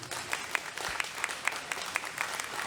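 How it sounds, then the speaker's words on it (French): A convention audience at Chibi Rouen 2022 applauds two anime dubbing actors on stage; the clapping is fairly quiet and distant, with individual sharp claps standing out from a soft, continuous patter. "On peut les applaudir, s'il vous plaît."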